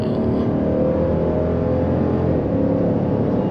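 A 2020 Jeep Grand Cherokee SRT with a 6.4L V8 pulls hard at full throttle, a loud, steady engine roar heard from inside the cabin that rises slightly in pitch across a few seconds.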